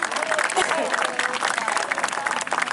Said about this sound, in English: let's give them a golf clap, ladies and gentlemen